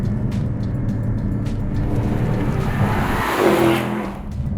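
A Mercedes-AMG SL 55 engine roars and revs up under hard acceleration from a standstill, rising in pitch with a whooshing surge, close and loud throughout.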